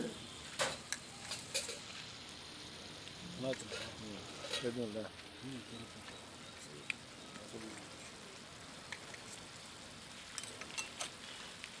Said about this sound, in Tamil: இஞ்சி பூண்டு நல்லா வதங்கணும்.